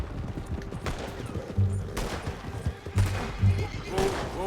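Gunfire crackles in the Red Dead Redemption 2 video game: several sharp shots ring out amid a tense roadside wagon scene, with a voice talking over the action and horses nearby.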